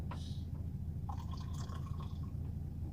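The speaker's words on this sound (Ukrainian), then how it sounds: "Наливаємо водичку." Water pours and trickles into an electric kettle, a few splashing drips and a short gurgling run of liquid over a steady low background hum, close and fairly quiet.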